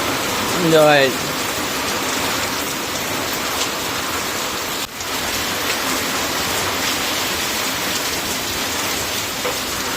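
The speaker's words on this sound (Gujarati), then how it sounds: "જોવો કેવો મુશળધાર વરસાદ, અંધરાધાર વરસાદ આવે." Torrential heavy rain pours down in a steady, loud, dense hiss for the full ten seconds, with a brief rising tonal chirp near the start and a momentary dip midway.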